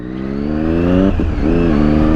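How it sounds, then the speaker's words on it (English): A motorcycle's quick shifter briefly cuts the engine on an upshift into second gear during a road ride, producing a loud steady engine drone that dips in the middle before the revs pick back up. "that's a quick shifter. Heard it when I put it in second, because in second it wanted to cut the engine"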